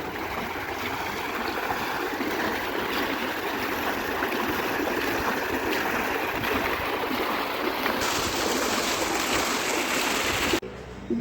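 A water pump motor runs to water a sugarcane field, producing a loud, continuous rush of flowing water with steady motor noise underneath that never lets up, and no clear speech.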